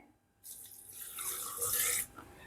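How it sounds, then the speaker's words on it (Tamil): Water is poured from a glass into a container, a short splashing gush lasting under two seconds that rises and then stops abruptly. "இந்த கிளாஸால் இவ்வளவு தண்ணி விட்டுக்கொள்கிறேன்"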